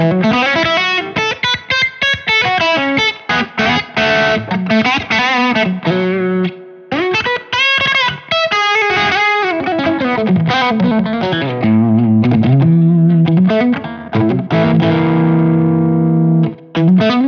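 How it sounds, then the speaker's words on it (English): An electric guitar played through a Synergy Z Wreck amp module with a Strymon Flint adding spring reverb. It rings out loud, distorted chords and sustained notes in a continuous, close passage with no talking. "I have a Strymon Flint doing the spring reverb on the back end there."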